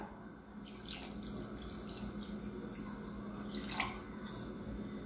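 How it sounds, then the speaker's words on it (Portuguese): Water is poured into a pan of sugar to make candy apples, a faint trickling and splashing over soft background sound. "Vamos colocar a água."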